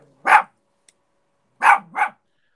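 A dog barks three times nearby, one sharp bark and then a quick double bark after a pause, with near silence between them.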